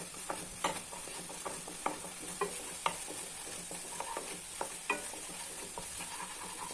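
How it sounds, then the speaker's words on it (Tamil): Ginger and garlic sautéing over low heat in a pan for an anchovy gravy, a steady soft sizzle broken by repeated scraping and clinking strokes of a stirring spoon. "நான் அப்படியே சும்மா இதை சிம்மில் வச்சு நான் வதக்கிக்கிறேங்க"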